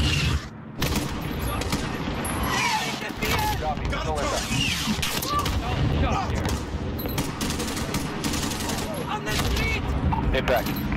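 Missile strike and gunfire in Call of Duty MW: dense bursts of automatic fire rattle steadily over the whole stretch, with people talking over the din.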